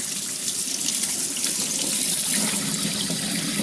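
Steady running tap water splashes into a sink while potatoes are rinsed under it, a close, continuous hissing gush with slight shifts in tone as the stream hits the spuds.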